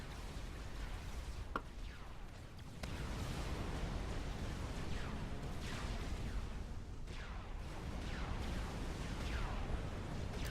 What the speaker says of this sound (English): Something exploded here.